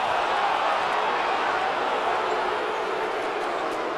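A packed basketball arena crowd roars and jeers steadily at the officials during a Providence vs. Louisville game, a dense, loud, continuous wash of noise with no clear individual voices.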